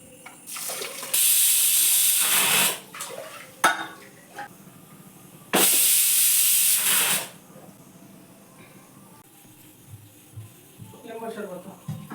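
A pressure cooker on a home kitchen stove vents steam in two long, loud hissing blasts of about one and a half seconds each, separated by quieter clatter, with a person talking at the end.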